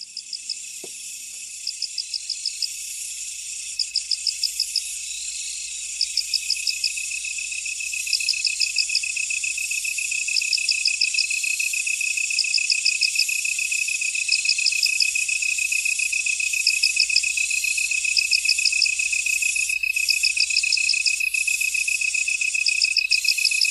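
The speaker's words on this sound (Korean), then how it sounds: "가을 풀벌레 소리와 귀뚜라미 소리 잠시 한번 들어보시게요." Autumn insects and crickets chirp in steady, repeating pulsed trills over a constant high buzzing drone, clear and evenly spaced against otherwise quiet surroundings.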